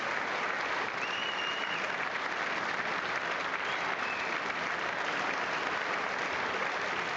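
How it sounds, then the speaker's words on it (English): Sustained applause from a large State of the Union audience, an even wash of clapping that continues unbroken throughout without any break or change in level. "Just keep the applause going and going and going."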